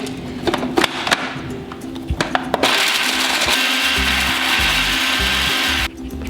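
Plantains pulsed in a food processor: a few sharp clicks and knocks, then a loud, close motor whirr with a grinding, chopping texture that runs for a few seconds and cuts off abruptly.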